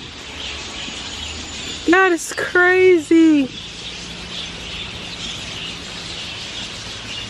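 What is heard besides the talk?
birds calling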